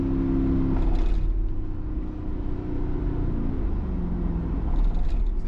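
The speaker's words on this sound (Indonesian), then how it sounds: "sambil menikmati buayan mesin V8" Steady low rumble of a Mercedes G63 V8 engine, heard from inside the car as it drives, a continuous close drone with slight swells and no talk.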